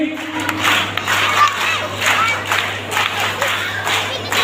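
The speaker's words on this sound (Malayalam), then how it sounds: "ഈ സമാപന സമ്മേളനത്തിലേക്ക് നല്ലൊരു കയ്യടിയോടുകൂടെ നമുക്ക് സ്വാഗതം ചെയ്യാം" Audience at a Sunday school closing ceremony applauds to welcome a guest, steady clapping from a crowd filling the room with cheering mixed in, lasting throughout.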